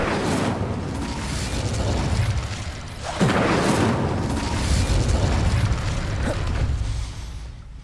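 A fire spell cast in a Harry Potter video game erupts with a loud whooshing burst about three seconds in, then roars on steadily before fading toward the end.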